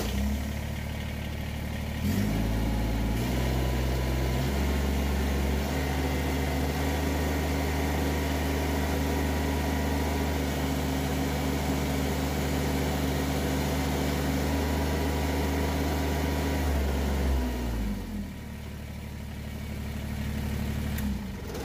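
A Kubota BX23S compact tractor's engine fires up and runs steadily at a constant idle during a hydraulic pressure test, a loud, even mechanical drone with low harmonic hum that settles after starting and eases near the end.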